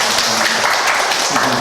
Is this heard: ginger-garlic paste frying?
no